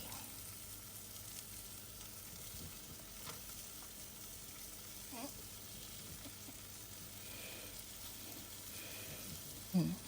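Sliced Cortinarius caperatus mushrooms fry in butter with pepper, a faint, steady sizzle running the whole time with a few small stirring clatters and a quiet voice now and then.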